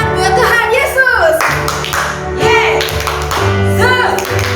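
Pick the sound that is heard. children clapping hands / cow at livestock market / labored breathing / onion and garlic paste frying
children clapping hands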